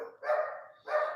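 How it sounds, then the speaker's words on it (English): Milo, a pet dog, gives two short, fairly faint barks at home, heard from a little distance with no talk over them. "that's why my dog Milo, who's not deaf and who's not under my desk snoring, is barking"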